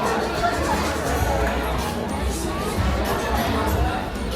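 Dense, steady chatter fills a crowded Highlands Coffee shop in Vietnam, many overlapping voices forming a continuous close babble with no single speaker standing out.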